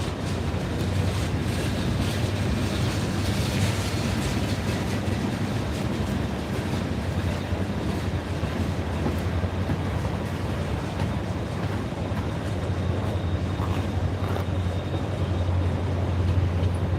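Norfolk Southern 1080 Delaware & Hudson freight train with a mid-train distributed power unit rolling past at speed near Roanoke, a steady loud rumble and rattle of railcars lasting throughout with no pauses.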